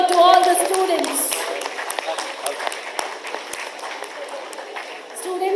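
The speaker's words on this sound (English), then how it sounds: "A big round of applause to all the students" Students at the 24th International Business Horizons world summit are applauded, a dense wash of clapping that stays steady throughout, loudest at the start and swelling again near the end, with a few scattered voices in the hall.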